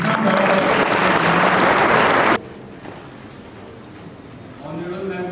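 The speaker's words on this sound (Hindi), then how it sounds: "आप एक बार शुरू होने से पूर्व ताली बजा लें।" Students clapping at a youth parliament session in a school, a loud, dense burst of applause that stops abruptly midway, followed by quiet room tone and then a voice speaking.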